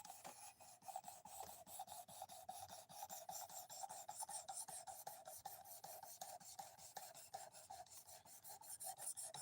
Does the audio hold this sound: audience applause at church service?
no